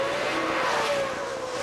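A Ford-powered two-wheel drive race truck at Eldora Speedway roaring under acceleration, a steady loud engine drone holding a high pitch throughout with no talk over it.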